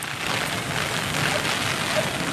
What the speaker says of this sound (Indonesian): Kondisinya hujan deras sekali, merupakan hal yang jarang terjadi